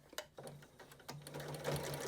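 A sewing machine runs in short bursts then a steady hum, top-stitching about 1/8 inch from the edge of a fabric ear reliever, close and moderately quiet with no talking.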